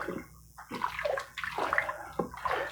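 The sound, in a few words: stirring milk and water in pressure cooker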